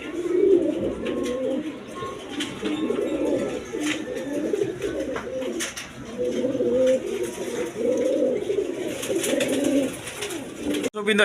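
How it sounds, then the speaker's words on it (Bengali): A pair of Denis pigeons coo in low, repeated throaty phrases, close by and fairly steady, with faint background noise and occasional speech nearby. "এইখানে এক পেয়ার ডেনিস কবুতর আছে"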